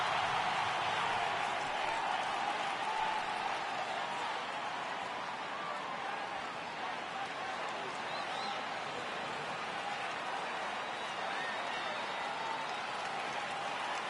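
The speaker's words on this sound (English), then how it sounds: "Crowd gets up for the 3-2." Baseball stadium crowd in the MLB The Show 18 video game cheering on a 3-2 count: a steady, broad roar of many voices and applause, sustained and even throughout.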